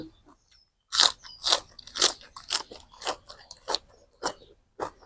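Crisp cos lettuce salad being eaten: a run of sharp, close crunching bites and chews starting after a second of quiet, coming in irregular bursts about every half second, loud and dry with no talk over them.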